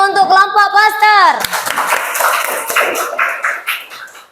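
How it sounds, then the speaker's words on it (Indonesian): Schoolchildren in a classroom applaud a poster group, a burst of mixed clapping after a spoken voice, continuing through the rest with some chatter. "Tepuk tangannya untuk kelompok poster."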